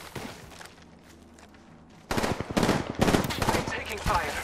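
Rapid automatic gunfire in the battle royale shooter Apex Legends bursts in halfway through, loud and dense, after a quieter stretch of game ambience and footsteps.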